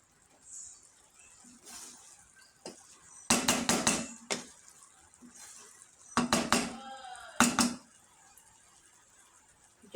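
Meat is stirred in a cooking pot, giving sparse, separate clanks and scrapes of a spoon on the pot. A few loud clusters of clatter stand out against a quiet background.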